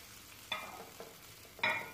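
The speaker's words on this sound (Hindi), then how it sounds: "इसको जो है वो 2 मिनट के लिए फ्राई करेंगे।" Chopped capsicum and vegetables for veg pasta fry in a pan over a medium-high flame, a faint, soft sizzle punctuated by two brief stirring scrapes.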